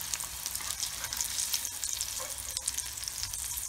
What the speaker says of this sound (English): It's not a deep fry, it's a shallow fry.